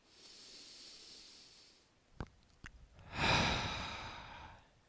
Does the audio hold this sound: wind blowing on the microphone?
no